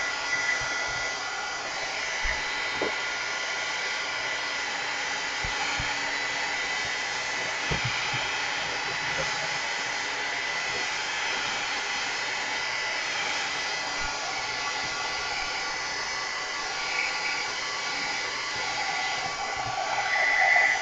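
A hair dryer blows continuously to dry paint on a mixed media craft layout, a steady loud whooshing hum held throughout, with a few faint handling knocks beneath it.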